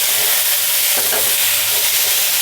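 Ripe tomatoes are stirred into onions frying in a pan, a loud constant sizzle and hiss with a brief scrape of the spoon partway through, no voices.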